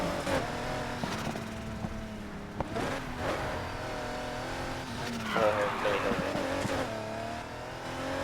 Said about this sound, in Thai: ผมใช้เป็นรถฟอร์ดจีทีนะเพื่อน